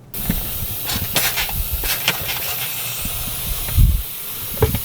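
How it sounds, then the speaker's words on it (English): A steady hiss of propane leaking from a gas cooktop connection, with faint bubbling and crackling through soapy water, broken by a few brief louder thumps near the end. "you can hear it, we have some bubbles coming up from that connection"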